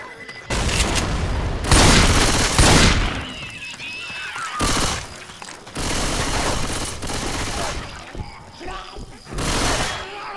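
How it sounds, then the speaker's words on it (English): Video-game combat in Left 4 Dead 2, Swamp Fever: bursts of rapid gunfire and booming grenade blasts come in repeated loud waves, with players shouting over the chaos. "Grenade! Look out!"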